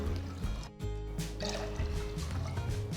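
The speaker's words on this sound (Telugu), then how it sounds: "ఒక కప్పు అరికెలు పెసరపప్పుకి నేను నాలుగు కప్పుల నీళ్లు యాడ్ చేస్తున్నాను" Water pours steadily into a pot of kodo millet and moong dal for millet pongal, a close, continuous splashing fill with a short break partway through.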